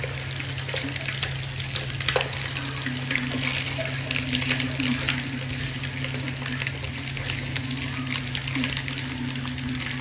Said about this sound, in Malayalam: നമ്മൾ എഗ്ഗ് ഫ്രൈ ചെയ്ത്